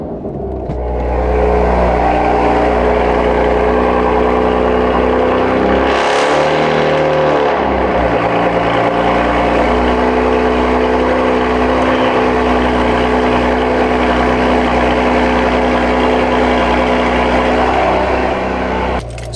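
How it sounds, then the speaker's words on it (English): BMW F80 M3 engine with stock downpipes, an equal-length non-resonated mid pipe and an AWE exhaust, cold starting with a loud flare of revs and then settling into a steady, rumbling high idle heard close and alone. "let's do a cold start for the boys"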